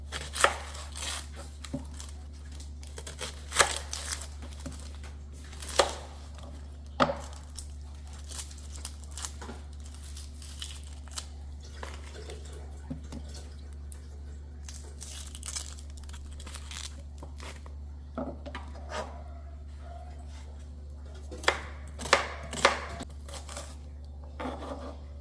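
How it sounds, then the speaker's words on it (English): A knife dices onions finely on a cutting board, with quick irregular chopping taps throughout over a steady low hum, some clusters of rapid cuts standing out. "start by dicing the onions nice and fine."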